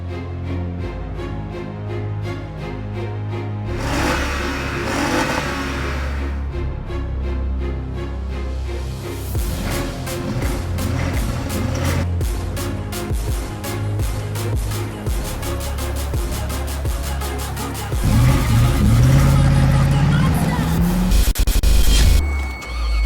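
An old Range Rover drives along with its engine running, a steady rumbling drone overlaid with rattles and rhythmic clatter, swelling louder and heavier toward the end, close and continuous.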